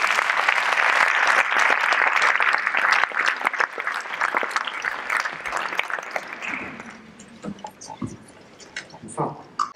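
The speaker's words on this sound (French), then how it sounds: "Vous pouvez l'applaudir." An audience at a festival opening ceremony applauds loudly with dense clapping that thins into scattered claps and fades after about six seconds.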